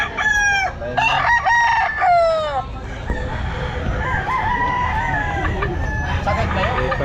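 Several roosters crow loudly at an outdoor pet market, with a few distinct cock-a-doodle-doo calls in quick succession near the start, then clucking and fainter crowing over a busy background.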